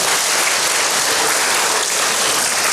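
A church congregation bursts into loud, dense applause during a sermon, close and continuous throughout, with no talking over it.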